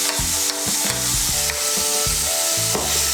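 Ginger and green chilli paste fries in oil, giving a steady sizzle under repeated, rhythmic scrapes and knocks of a spatula against the pan.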